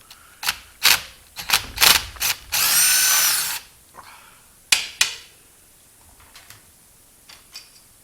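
13 mm socket ratchet on the bolts of a Delco starter for a Chevrolet 4.6 V6, with quick clicking bursts, a longer buzzing run of about a second, then a few more scattered clicks close by.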